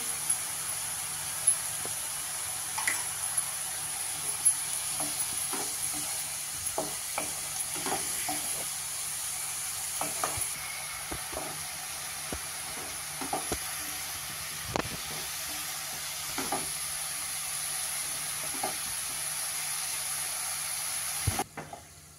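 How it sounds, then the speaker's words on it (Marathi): Fenugreek leaves sauté in oil in an uncovered pan, a steady low sizzle under frequent scraping and tapping of a spatula, ending with a sharp clack. "आपण साधारण 4 मिनिटं मेथी परतून घेतली आहे तेलावर"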